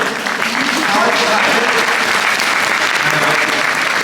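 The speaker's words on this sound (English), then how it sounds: "We've checked him out for clapping." An audience at a horsemanship demonstration claps loudly and continuously for about four seconds, a dense sustained round of applause with a voice faintly audible beneath it.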